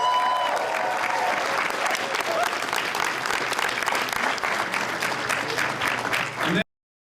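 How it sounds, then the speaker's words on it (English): Sustained applause from a large crowd, loud and steady for several seconds before cutting off abruptly. "So give yourselves a round of applause for that."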